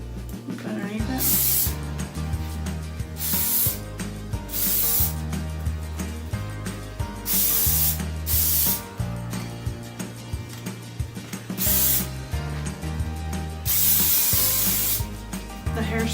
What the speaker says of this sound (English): The hairspray will also help the glitter.